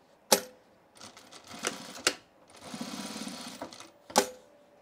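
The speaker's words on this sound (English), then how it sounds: "now let's top stitch" A sewing machine top stitches a tool belt with brown bobbin thread in short bursts, with sharp clacks between runs and one longer steady stitching stretch, close up.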